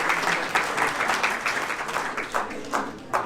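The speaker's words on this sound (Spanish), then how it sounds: "El aplauso" Sustained applause from a church congregation during a talk on ecclesiology, steady dense clapping throughout with a few louder bursts near the end, moderately loud and close.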